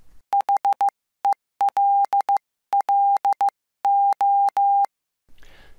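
A steady electronic tone keys on and off in short and long beeps, forming crisp Morse-style groups, then stops, followed by faint hiss.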